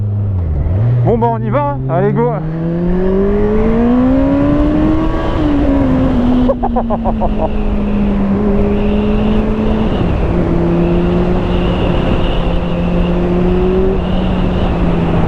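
A Kawasaki ZZR 1400 sport motorcycle engine revs up from about 2500 rpm and pulls hard, its pitch climbing then holding steady through gear changes, loud and close with brief speech near the start.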